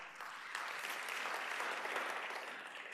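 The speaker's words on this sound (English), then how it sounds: "so a round of applause for Dr. Blutt" An audience at a medical entrepreneurism professorship event claps in sustained, even applause, a dense wash of many hands held steady for several seconds, heard at a moderate distance in a room.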